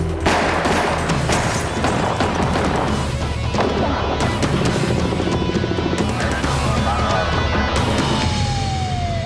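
Dense gunfire in a police shootout, rapid overlapping shots mixed with sirens and loud chaotic noise throughout, ending with a falling siren wail.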